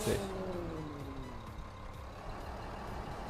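A Mercedes-Benz 1632 S truck in Farming Simulator 15, driving fast with a load, its engine a steady continuous drone with a brief hiss at the start, moderately distant and even.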